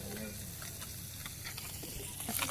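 Small fresh river fish fry in oil in a pan, giving a steady, close crackling sizzle throughout with a few louder spits near the end.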